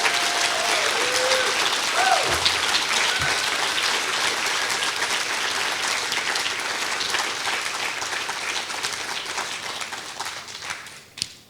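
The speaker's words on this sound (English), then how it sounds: "Can we get a good round of applause for these student honorees?" Sustained applause from a large crowd at a 2023 awards ceremony honoring students, loud and steady for several seconds, then tapering off toward the end.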